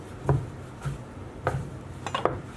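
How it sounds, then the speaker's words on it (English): Knife chopping crustless stale bread into small crouton-sized pieces, probably on a board: four or five soft, irregular taps close by, with no voices. "all we're going to do is chop this up into small pieces"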